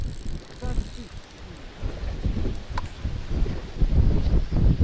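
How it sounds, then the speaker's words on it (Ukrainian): Gusty wind buffets the microphone outdoors while carp fishing, with a low, uneven rumble throughout, rising stronger toward the end. "Ви подивіться, яка погода. Вітер дме."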